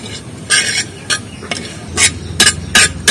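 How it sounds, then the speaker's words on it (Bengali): Mustard seeds frying in a pan while being stirred, loud and close: a low sizzle under repeated sharp scraping strokes of a spoon against the metal, coming in uneven bursts. "আর একটু ভালো করে ভেজে নেবো, কালো কালো করে।"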